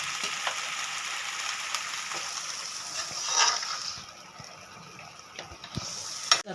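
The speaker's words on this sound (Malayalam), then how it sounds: "ചൂടുവെള്ളം ഒഴിച്ച് കൊടുക്കാം." Hot water is poured into a simmering fish curry masala for kannan kozhuva fish curry, a brief swelling splash over a steady sizzle of the pan.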